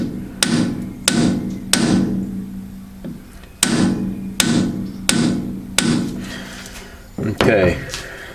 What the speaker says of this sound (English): So I'm just going to tap lightly.